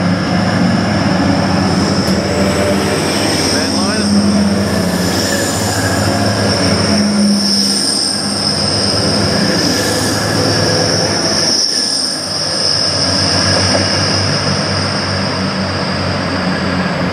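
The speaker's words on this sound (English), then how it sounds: "this is our next train now coming in south on platform 8" A train arriving at platform 8 rumbles in loudly with high, sustained metallic wheel squeal ringing over the rolling noise throughout, close by and unbroken.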